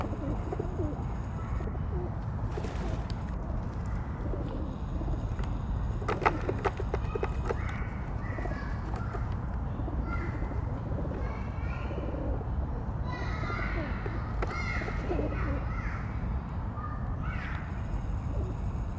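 A flock of about twenty pigeons outdoors, soft cooing and rustling throughout, with crows cawing now and then in the background over steady outdoor noise; no clear talking.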